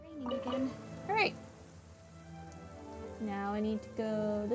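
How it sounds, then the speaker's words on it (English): Rain falls in the Genshin Impact video game, a steady soft patter beneath game music and character voices, continuing throughout at moderate level. "Raining again."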